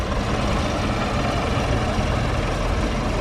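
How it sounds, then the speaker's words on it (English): The diesel engine of a Massey Ferguson 290 tractor, carrying rice paddy beside a river, runs with a steady low rumble, close and continuous. "Wow, the other tractor moving."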